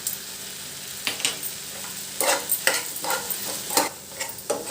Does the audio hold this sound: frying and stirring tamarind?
yes